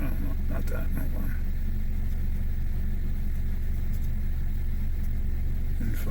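Car engine with a rough-running fault tied to a faulty valve cover, a steady low rumble heard from inside during a road test, fairly quiet and continuous under faint background noise.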